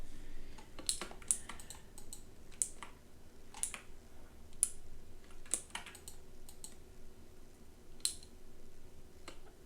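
Computer keyboard typing, irregular bursts of sharp key clicks and clacks, close and fairly quiet, with no talking.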